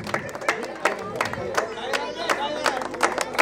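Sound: audience clapping at prize ceremony

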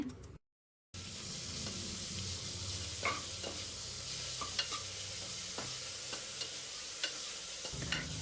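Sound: onion and tomato frying in oil, stirred

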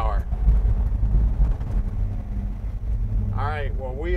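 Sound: ramjet fuel injection intake sucking air on 1947 International KB-1 pickup

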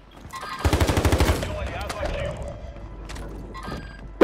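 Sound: gunfire in video game Call of Duty

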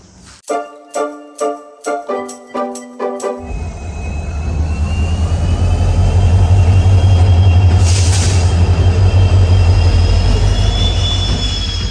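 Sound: train arriving

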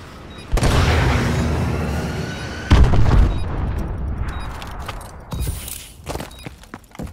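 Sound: missile strike explosions in video game Call of Duty: Advanced Warfare

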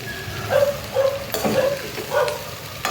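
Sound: stirring poha into frying onion and potato in pan

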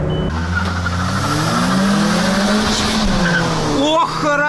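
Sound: car wheelspin during hard launch

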